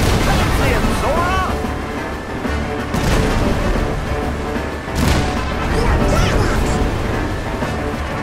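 Cannon fire during a boat battle in Kingdom Hearts III, heavy booms landing around the 3 and 5 second marks amid a dense, loud wash of game music, effects and character voices.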